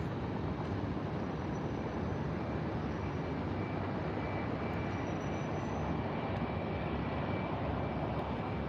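Steady broadband roar of a jet airliner departing a Tampa International Airport runway, a continuous distant rumble with no distinct rise or fall and no voices.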